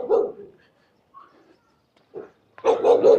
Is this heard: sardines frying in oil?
no